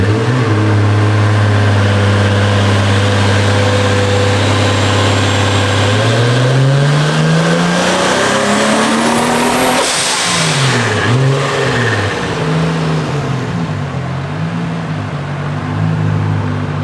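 A built Toyota Supra runs hard on a dyno, its engine droning loud at a steady speed, then climbing in a long rising rev before dropping back and surging again, close and dominant with no talk.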